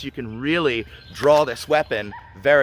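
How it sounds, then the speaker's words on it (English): A dog on a homestead barks several times in loud, yelping bursts, mixed in with someone talking close by. "Sorry about the dog barks in the background."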